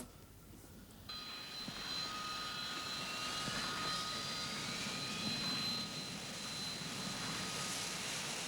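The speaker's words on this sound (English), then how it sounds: "There's a plane just landed" A plane coming in to land behind a house near woods and a paddock, a steady broad engine roar with a thin high whine that starts abruptly and holds loud and close throughout, with no voices.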